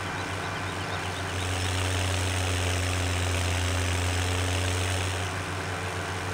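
A tractor engine in the farming game Farming Simulator 17 drones steadily at a low idle-like pitch throughout, a constant mechanical hum with no speech over it.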